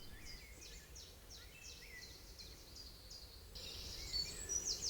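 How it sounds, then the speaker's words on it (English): Birds sing in an English woodland beside a quiet channel, with faint, repeated high chirps and trills over a low ambient hush, a little louder toward the end. "enjoy the sounds of the birds"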